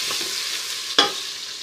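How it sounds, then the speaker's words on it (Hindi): Ginger-garlic paste is stirred into lightly golden onions frying in a pot for daliya haleem, a steady close sizzle broken by one sharp scrape of the spoon. "अब मैं इसमें 1 खाने का चम्मच लहसुन अदरक का पेस्ट शामिल कर देती हूँ और हल्का सा इसको चला लेती हूँ।"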